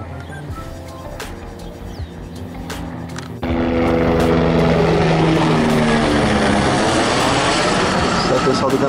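A fast airplane passes at Sorocaba airport, starting as a quieter approach and then jumping abruptly into a loud, sustained roar that holds close and steady through the rest of the pass.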